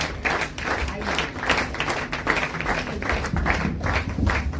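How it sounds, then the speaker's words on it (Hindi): Indoor audience applause at a poetry and honouring event in a Dwarka mall, a steady dense stream of clapping hands throughout, moderately loud and fairly close, with faint voices mixed in. "सारे लोग जोरदार तालियां बजाकर उनका स्वागत अभिनंदन"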